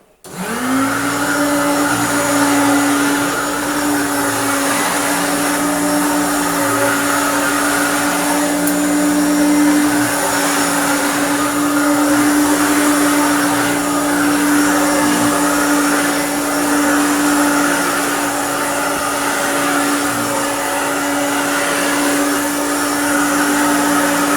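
Restored Hoover Turbopower Junior U1426 upright vacuum cleaner switches on and runs steadily, giving a loud, constant motor whine with a steady hum underneath and no talking.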